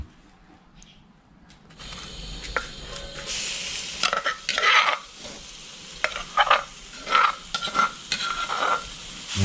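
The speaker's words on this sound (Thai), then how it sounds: "เดี๋ยวผมคั่วหนูก่อนพี่น้อง" Rat meat sizzles in a hot pan while a utensil scrapes and stirs it in irregular strokes, close and loud.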